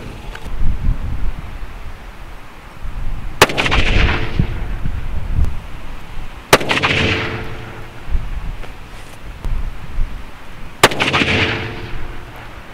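A CZ 600 rifle in .308 firing Remington Core-Lokt Tipped rounds at an outdoor range: three sharp, loud reports spaced a few seconds apart, each with a rolling echo, over steady wind noise.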